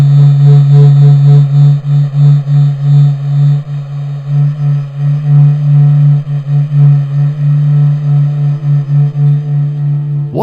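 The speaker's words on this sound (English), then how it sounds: "What you just heard is the heartbeat of the Sun," Sonified NASA SOHO solar data presented as the Sun's heartbeat: a loud, steady low hum with stacked harmonic overtones that swells and pulses slowly and continuously, with no other sounds.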